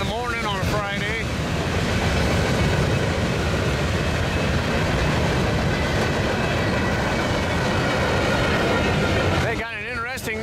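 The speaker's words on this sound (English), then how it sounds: "They got an interesting looking train here. Looked like sand cars at first and turned into a mixed freight." A long Union Pacific mixed freight train, starting with sand cars, rumbles past steadily with clanking cars and wind buffeting the microphone, loud and continuous before easing at the end.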